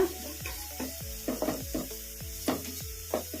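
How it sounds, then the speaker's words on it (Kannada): Ginger garlic paste sizzles in a pan with fried onions, a steady sizzle broken by repeated scraping stir strokes of a spoon, close and moderately quiet with no talk. "ಈ ಅಲ್ಲ ಬೆಳ್ಳುಳ್ಳಿ ಪೇಸ್ಟು ಹಸಿ ವಾಸನೆ ಹೋಗೋವರೆಗೂ ಒಂದು ನಿಮಿಷ ಫ್ರೈ ಮಾಡ್ಕೊಂಬಿಡೋಣ"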